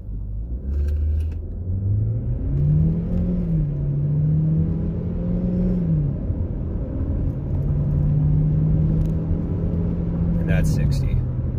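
The 1.5L turbo engine of a 2020 Chevrolet Equinox, heard in the engine bay, revs up in a sustained rise, holds, dips, then climbs again, with a loud droning rumble and rising pitch throughout.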